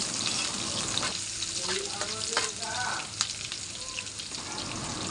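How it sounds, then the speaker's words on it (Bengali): Garlic, onion and dried chillies fry in oil in a wok, a dense constant sizzle close up, broken by a few stirring strokes as they are tossed toward light brown. "এখন নাড়াচাড়া দিয়ে হালকা বাদামি কালার করতে হবে।"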